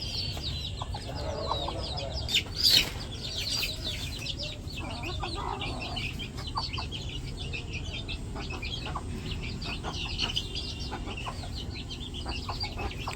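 Chickens clucking softly close by in a rural yard, scattered faint clucks and chirps over a low background hum, with one sharper squawk near the start.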